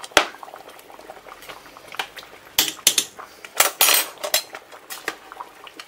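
Cooked hemp seed for carp bait being stirred in a metal pot, with close scraping of a spoon against the pan, wet bubbling and sloshing, and a few sharp clinks in uneven bursts, no voices.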